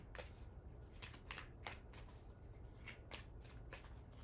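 Tarot cards riffle-shuffled in a series of quick crisp bursts, close and fairly quiet, with no voices.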